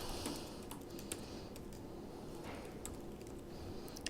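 A title being typed on a computer keyboard: quick, light keystrokes in an uneven run, faint and close, with no talk.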